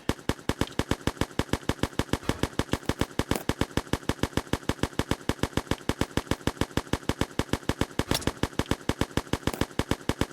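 The death gripper weapon in the video game Necesse fires in a fast, unbroken stream of sharp, evenly spaced shots, loud and close, with no pauses.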